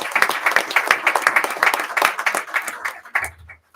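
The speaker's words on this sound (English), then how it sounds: "how about a huge round of applause for Mariah?" An audience at a school district board meeting claps in a burst of steady applause that tapers off near the end.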